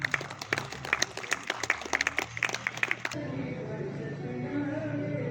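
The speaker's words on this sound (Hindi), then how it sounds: "अभी बहुत बहुत तालियां" Audience applause at an award ceremony honouring participants, loud dense clapping for about three seconds before fading into a quieter hall murmur.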